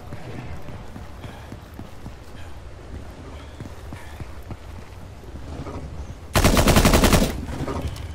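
Rapid pistol gunfire in the video game Nether comes as a dense, loud burst of close shots lasting about a second near the end, after quieter footsteps and background game noise.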